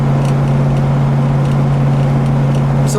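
A 1969 Ford Mustang Mach 1 with the 428 Super Cobra Jet engine and shaker hood cruises along, its engine a steady low drone with a constant hum and road noise from inside the car.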